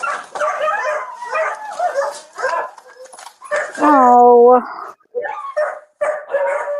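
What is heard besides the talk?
big dog barking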